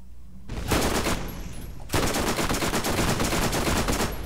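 Rapid submachine gun fire from a first-person shooter game, Borderlands Remastered, bursting loud and continuous after a brief quiet start, with a short pause before a second sustained volley.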